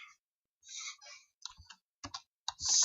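Someone types on a computer keyboard, a few short bursts of plastic key clicks and taps with brief pauses between, close and fairly quiet, with no voices.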